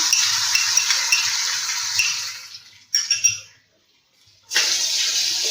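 Spice paste frying in hot oil for a dhaba-style egg curry, with a steady sizzle and occasional stirring scrapes, a brief gap of near silence, then the sizzle returning loud and close.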